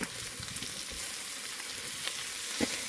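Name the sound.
stirring flour into sizzling butter and oil in pot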